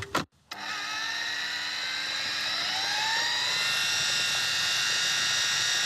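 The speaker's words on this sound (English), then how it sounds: "So into food processor. Into food processor." A food processor blitzes a five-spice mixture, starting after a couple of brief knocks, then running as a steady, loud whirring motor with a high, rising whine until the end of the clip.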